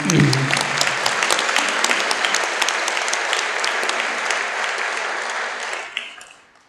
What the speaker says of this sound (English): Let's give Coach McCray and family a round of applause.